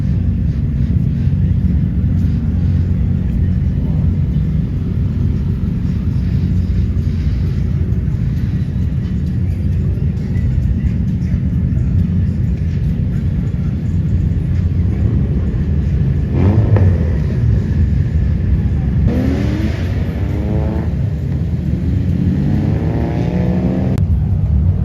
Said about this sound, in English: These cars are so amazing. They belong to the drifting team Strict.